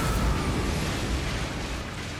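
An Omen spell from Elden Ring goes off as a dense, roaring burst that stays loud for about two seconds, a steady rumbling wash with no speech over it.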